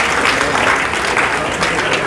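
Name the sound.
audience applause at inauguration ceremony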